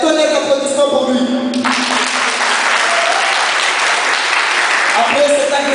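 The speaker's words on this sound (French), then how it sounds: "S'il vous plaît, un tonnerre d'applaudissements pour lui." Loud, dense audience applause at a speech event for a Comorian community gathering in Oujda, sustained throughout, following a brief stretch of amplified talk at the start.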